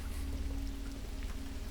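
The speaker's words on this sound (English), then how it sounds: "It's rain. It seems to be getting heavier." Steady rain falling and growing heavier, a continuous soft patter of drops with no other sounds.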